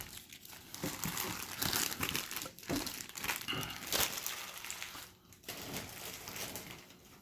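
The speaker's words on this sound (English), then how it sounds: "set her down so we can get all this protective plastic out of the way" Protective plastic packaging being pulled off a boxed anime figure: continuous close crinkling and rustling, with crunches and brief tearing, fairly soft, with no voices.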